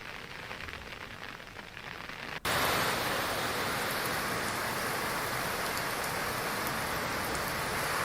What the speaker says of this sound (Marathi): उत्तराखंडमध्ये जोरदार पाऊस कोसळतोय